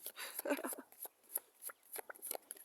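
Soft papery riffling and light taps as tarot cards are shuffled by hand, quiet and close, in a few short bursts.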